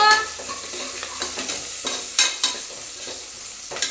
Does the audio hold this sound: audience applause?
no